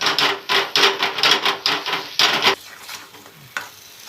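Spices and masala frying in oil for a spicy village-style chicken curry, with loud rhythmic scraping and stirring strokes over sizzling for about two and a half seconds, then a quieter simmer and a single final clink.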